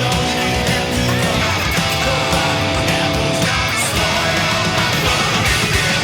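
Funk-rock electric guitar from the second pre-chorus of a song drives a dense, loud full-band mix that runs continuously without a break.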